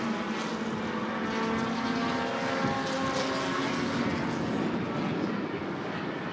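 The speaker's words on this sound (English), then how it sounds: "Drag race down the front stretch." Race cars in a Bahama Brackets feature at Grundy County Speedway drag racing side by side down the front stretch, a loud, sustained engine roar that stays steady without any voices.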